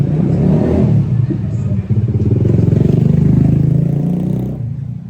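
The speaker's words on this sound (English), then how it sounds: "in the tightest narrow streets, motorbikes still come and go frequently" Motorbikes passing through tight, narrow Hanoi streets, a loud, steady engine drone with revving and clatter, close by and continuous before fading slightly at the end, with voices mixed in.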